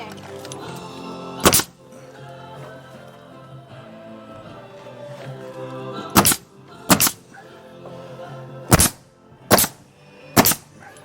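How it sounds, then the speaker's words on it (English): A nail gun drives nails into board and batten siding. Five sharp, loud shots come at uneven intervals over a low background hum. "get me the nail gun"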